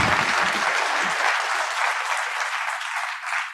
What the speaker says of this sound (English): you can clap again for Randy.